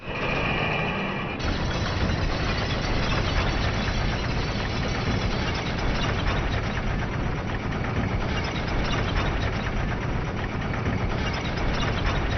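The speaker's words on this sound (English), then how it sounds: "Go ahead and jump on the elevator and ride it down." An elevator rides downward in the video game Dark Souls 2, giving off a continuous dense mechanical rumble and grinding hum that starts after a short change in tone and holds steady to the end.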